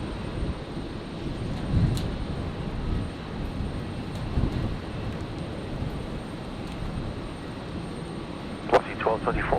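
Airliner taking off from a runway at Brisbane Airport on a stormy night, a distant, steady engine roar under radio chatter between air traffic control and a pilot.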